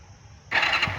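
A Hero Splendor motorcycle engine cranks and catches halfway through, jumping from a quiet background to a loud, steady running note close to the listener.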